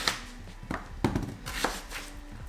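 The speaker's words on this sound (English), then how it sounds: "Then cut up the onion. I hate chopping onion," A knife chops an onion on a cutting board while tomatoes are prepared for a high-protein lasagna, giving a few irregular, close thunks and taps spread across a short, fairly quiet stretch.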